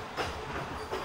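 A Tsurumi Line train runs along the track with a faint, brief clatter of wheels and a rhythmic low rumble.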